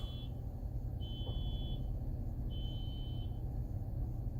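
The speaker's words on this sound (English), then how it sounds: "Somebody's alarm's going off." Short electronic alarm beeps repeat in bursts of about a second, with pauses between, over a steady low rumble in the background.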